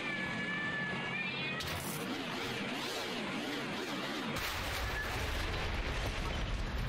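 A cat meows several times in the video game Doors, repeated wavering cries over a dense game background, with an abrupt shift in the ambience partway through.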